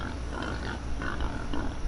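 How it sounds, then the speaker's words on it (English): Wild pig in a hunting game set on an emerald coast, low grunting snuffles under a steady outdoor ambience, faint and brief. "Oh, I got a pig on me."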